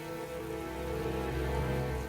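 Rain falls as a steady, even wash with a sustained tonal drone running beneath it throughout.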